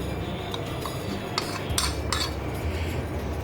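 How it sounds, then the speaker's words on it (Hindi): A spoon adds a tablespoon of vinegar to a bowl of sauce with garlic sauce for Singaporean rice, giving a few soft metallic clinks and scrapes of cutlery against the dish over a low steady background. "ये मैं डाल रही हूँ सिरका 1 टेबल स्पून।"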